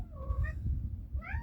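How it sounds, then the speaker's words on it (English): A house cat gives two close, clear meows, the first drawn out and the second shorter and rising, with low rumbling room noise underneath. "Oh, look at my cat."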